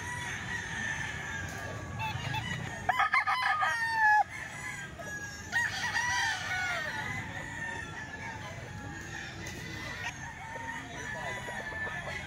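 A ten-month-old Pumpkin Sweater gamecock rooster at a market crows once loudly and clucks, amid a busy background murmur of people and other birds.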